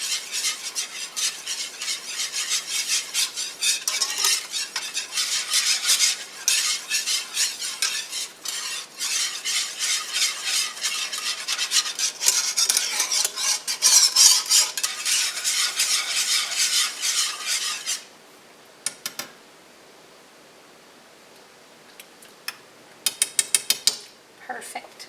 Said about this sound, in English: Stir this around, and then we'll get everything back in the pan and simmering together.